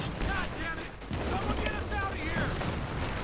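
Infantry gun fire in Company of Heroes 2 rings out amid a dense, continuous wash of battlefield gunfire and explosions that stays steady and loud throughout.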